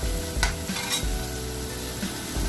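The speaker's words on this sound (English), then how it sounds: "So you want to caramelize the onions in like a light brown" Onions fry and caramelize in a pan, a steady soft sizzle with a few stirring scrapes and clatters, fairly quiet and close, no voices.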